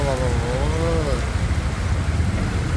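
Heavy rain pours onto a street in Hubli, a dense, steady roar of falling water close by, with a brief wavering whistle-like tone early on.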